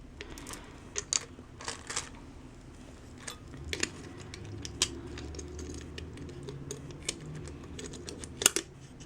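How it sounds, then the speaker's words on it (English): Small sharp snips cutting the string between plastic beads, scattered clicks at close range over a low background hum, no voices. "they've got like a little string between them that you can just snip off."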